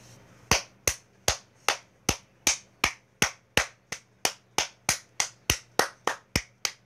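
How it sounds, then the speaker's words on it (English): A single person clapping hands in a steady, even rhythm, about sixteen sharp claps spaced roughly a third of a second apart, close and loud with no talking. "Claps."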